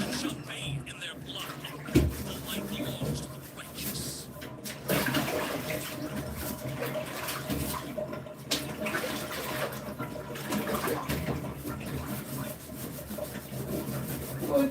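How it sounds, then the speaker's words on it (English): Bathwater drains and sloshes in a tub, a continuous wet rushing and gurgling with rubbing and knocking noises, heard close up and at fairly steady loudness throughout. "Drain the water."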